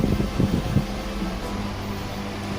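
A Voron 2.4 3D printer runs steadily while printing a dual-colour Majora's Mask, giving a loud, close fan whir under a low hum, with a few faint stepper-motor ticks at the start.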